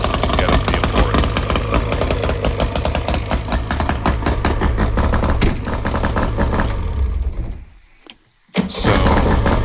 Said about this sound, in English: I decided to run the motor for just a while to get a feel for it